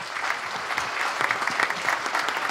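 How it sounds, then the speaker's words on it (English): An audience at a book and music album launch ceremony in Kansas City claps for a musician, a dense, steady burst of hand clapping close to the listener. "Give him a big applause."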